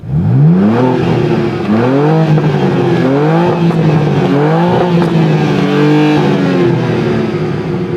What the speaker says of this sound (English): BMW M2, no soft limiter in it.